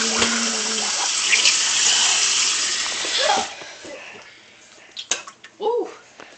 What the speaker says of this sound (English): He's running the water.